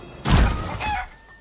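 A chicken in the video game Rise of the Ronin gives a brief, loud squawking crow followed by a shorter cluck, close and alone.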